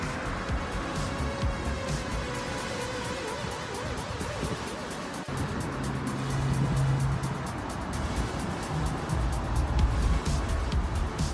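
A 1992–96 Toyota Camry drives along the road, a steady broad engine and road rumble with tyre noise that swells slightly in the second half, heard from inside the moving car with no talking.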